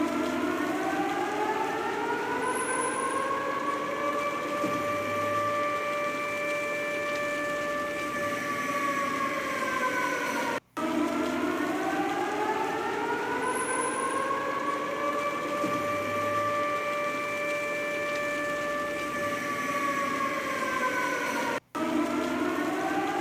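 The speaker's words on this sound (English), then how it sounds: "you can hear these sirens going off" Russian civil defense nuclear war sirens sound during a test in St. Petersburg, a loud, sustained, slowly wavering wail that repeats in long cycles and carries across the city.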